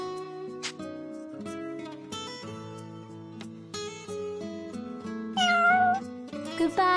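Cats meowing inside the video game Shining Resonance Refrain, with short cat cries rising over steady game music, the meows growing louder and more frequent near the end.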